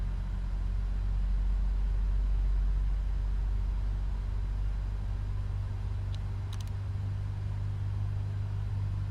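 A steady, low, droning rumble fills the cockpit of a PMDG 777-300ER parked at San Francisco in Microsoft Flight Simulator 2020, with a couple of brief faint clicks partway through.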